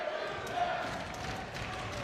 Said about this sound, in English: Listen to this crowd get into this one.